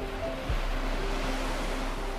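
Sea waves roll along a wide kitesurfing beach in Zanzibar, a steady broad wash of surf with wind rumble, continuous and moderately loud with no voices.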